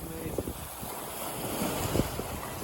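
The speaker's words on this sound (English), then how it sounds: "Every now and again we get a set of really big waves" Big ocean waves roll and wash past a sailboat running downwind on the open sea from New Zealand to New Caledonia, a continuous broad rushing surf mixed with strong wind buffeting the microphone, close and steady.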